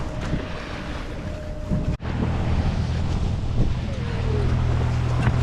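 Steady wind rushes across the microphone aboard a sailboat running under a full 150 genoa off Newfoundland, with broad continuous noise, a brief dropout, and low rumbling hull and water sounds beneath.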